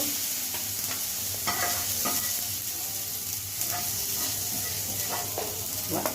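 Tomatoes, chillies, cumin, coriander seeds and urad dal fry in a pan for coriander-leaf chutney, with a constant close hiss and irregular spoon scrapes as the mix is stirred.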